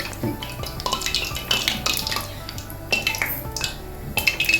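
Fried urad dal vadas being lifted out and set on a plate one by one, with close clinks of utensil against plate, light scraping and dripping over a steady background, no talk.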